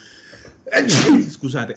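During an online language class, one person sneezes sharply up close, with a short intake before a loud burst, then speaks briefly afterward.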